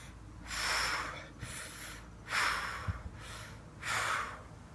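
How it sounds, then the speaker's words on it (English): Deep breathing during kettlebell swings, four strong rhythmic exhales in a steady pattern about a second apart, close and breathy, with faint thuds beneath. "take a deep breath in as you start in your lower position and breathe out as you push your hips forward"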